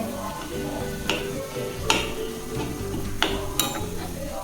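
Ingredients sizzling and frying in oil in a pan for homemade hair oil, a steady close crackle with occasional clinks and stirring scrapes against the pan.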